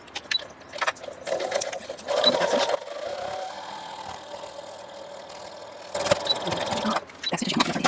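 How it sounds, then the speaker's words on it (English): A sewing machine stitches quilt fabric up close, running in loud bursts of rapid whirring and clatter with short pauses between runs. "And I'm going to sew from this side."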